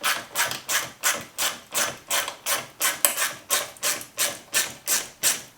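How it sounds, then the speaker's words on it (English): A 7mm ratchet with a long-neck socket loosening the clamps on a car's silicone intercooler hoses gives steady, evenly spaced rasping clicks, about two per second, close by and with no voices. "I'm using a 7mm ratchet and long neck socket, and I'm just gently undoing the silicone hoses on the sides"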